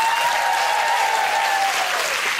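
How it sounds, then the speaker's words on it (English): A television studio audience on a daytime talk show breaks into steady, dense applause that fills the whole stretch, loud and close with no talk over it. "Give him a round of applause."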